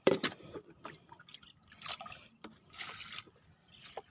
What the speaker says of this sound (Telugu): కాస్త నీళ్ళు పోస్తా